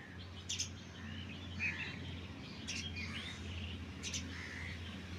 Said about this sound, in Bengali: তোমারে ডাকে পাখিতে